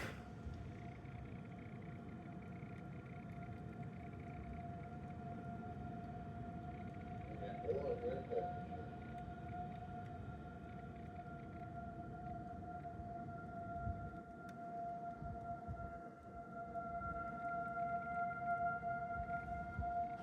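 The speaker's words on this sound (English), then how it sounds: "the White Bear Lake sirens are about to wind up again for attack." White Bear Lake outdoor tornado sirens in Ramsey County during a system test, a distant steady wailing tone holding over low rumbling background, rising slightly in strength toward the end.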